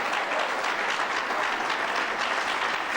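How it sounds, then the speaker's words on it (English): Sustained applause from a congregation at a religious sermon, dense steady clapping filling the whole stretch with no talk over it. "some people clap because they believe it, and that's why they clap"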